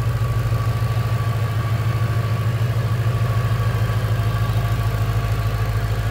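A deep, steady idle from a 5.2-liter supercharged V8 in a 2016 Ford Mustang Shelby GT350 rumbles continuously at close range, a low throbbing drone with a faint whine above it and no voices.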